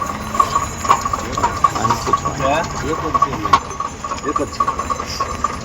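A tractor engine idles with a steady rhythmic chug and hum, close by, while people talk over it.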